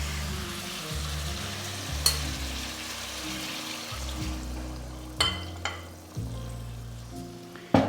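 Chicken curry with flour paste sizzles and fries steadily in a hot pot, with occasional sharp clinks of stirring over the continuous crackle, close up and without voices.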